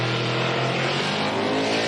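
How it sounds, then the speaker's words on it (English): A Mason two-wheel-drive desert race truck with a Dugan's big block engine launches off the line at a desert race, a loud, sustained, raw engine roar close by that holds steady without a break. "this is the Mason two-wheel drive with a Dugan's big block in it"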